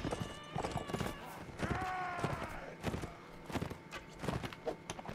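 Horse hooves clip-clop and a horse whinnies in the Mount & Blade: Warband video game during a battle. The hoofbeats come in irregular, fairly faint bursts, with a neigh in the middle, amid other game noise.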